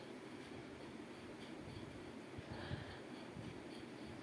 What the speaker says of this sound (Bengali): ট্রেনও চলে আসছে